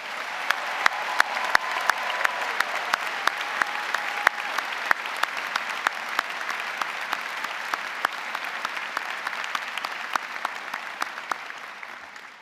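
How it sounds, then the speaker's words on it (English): Steady, sustained applause from a large audience honoring graduating students at a public health graduation ceremony, moderately distant and even throughout with sharp individual claps standing out, fading slightly at the end. "please join me in giving our graduates a very well-deserved round of applause"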